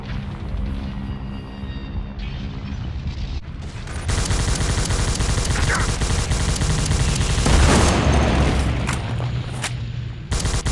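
Thompson submachine gun fire in the World War Heroes video game, dense bursts and booms layered over a continuous roaring backdrop that swells louder midway and stays busy throughout.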